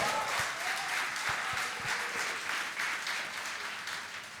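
A church congregation applauds steadily throughout, a thick continuous patter of many hands clapping with a few sharper individual claps standing out near the front.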